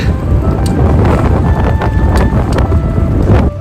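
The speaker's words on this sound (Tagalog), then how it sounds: "Ganito malakas yung hangin, hirap di magbike eh." Heavy wind rushes and buffets the microphone in a steady loud roar while cycling, with faint tones and rustling mixed in.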